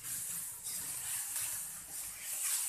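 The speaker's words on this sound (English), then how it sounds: "So stir to break the pork so it not stays in the lump." Minced pork frying in a hot pan gives a steady, bright sizzling hiss, rising and falling gently in waves as it is stirred, close and fairly quiet with no talk.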